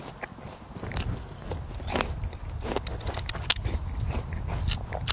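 Close, crisp crunching bites and chewing of a juicy apple, a series of sharp cracks at irregular intervals with wet mastication in between, no voices.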